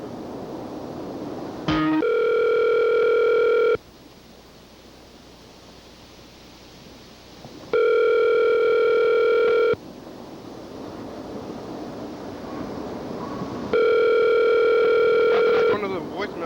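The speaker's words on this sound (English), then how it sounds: "I'm gonna call Grandma's house one more time" A telephone sounds a steady dial tone, playing in three long, loud blocks with quieter gaps of background hiss between them.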